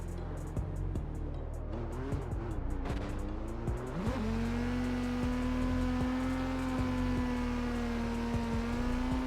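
A Nissan Silvia drift car in a racing video game, engine droning steadily at high revs with a rising pitch shift midway, tires squealing as it slides through a drift.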